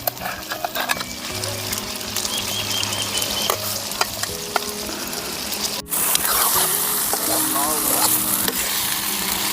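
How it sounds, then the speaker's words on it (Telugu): Eggplant pieces fry in a pan and are turned over and over, giving a busy crackling sizzle with scraping and clinking stirs, a sharp knock partway through, and a voice talking underneath. "ఇంకా అన్ని సైడ్లు తిప్పుకుంటే బాగా ఫ్రై అవుద్ది"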